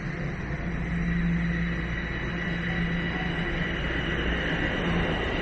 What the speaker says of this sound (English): And it sounds like there's a train here.